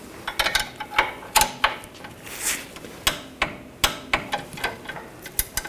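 A torque wrench ratchets a new bolt tight on the rear suspension of a Volkswagen Tiguan, giving a close run of sharp metallic clicks and taps in an uneven rhythm.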